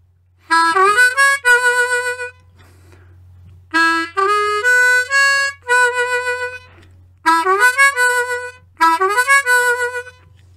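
A blues harmonica plays a phrase from a song three times, each a quick run of bright, bending notes, clear and close with short pauses between, no voices.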